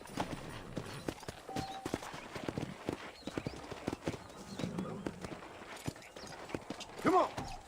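Horse hooves clip-clop at a steady walking rhythm in Red Dead Redemption, close and clear, with occasional creaks of tack and a short burst of louder game noise near the end.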